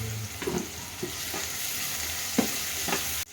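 Sliced onions fry in hot oil with a little salt for a mutton gravy, a steady sizzle under a few scattered scrapes and clinks of a spoon stirring the pan, with no voices.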